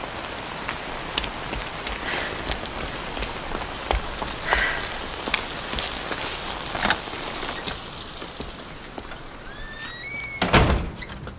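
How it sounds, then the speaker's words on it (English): Rain in the video game Evidence 111 patters steadily on surfaces, with scattered drip ticks, occasional door-like thunks and a louder clatter near the end, heard alone without voices. "The rain's are getting stronger."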